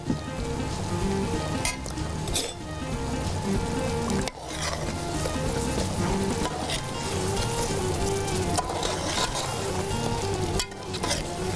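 Chicken pieces for Afghani fry murgh sizzling steadily in hot oil, a dense crackling hiss broken by a few louder spatters and scrapes as the pan is worked.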